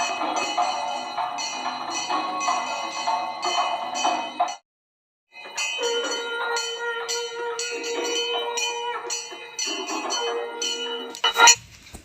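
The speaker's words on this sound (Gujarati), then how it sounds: "એને ઝાલર વાગવાની શરૂ થઈને એટલે ધાનુના પગમાં તો જાણે ગરેડી આવી ગઈ" Continuous metallic ringing and clanging of a temple jhalar gong and bells at evening, steady and fairly loud, with a brief pause midway before resuming.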